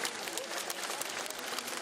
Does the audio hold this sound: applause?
yes